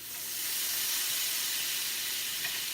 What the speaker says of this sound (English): That is a lot of steam.